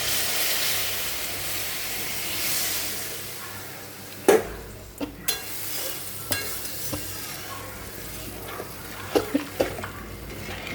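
Spice paste for begun sundori fries in hot oil with a constant soft sizzle and hiss, joined midway by a run of sharp spatula knocks and scrapes against the pan, near and without speech.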